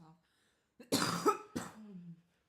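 A single close, harsh cough bursts out, followed by a second shorter cough, with quiet vocal sounds before and after.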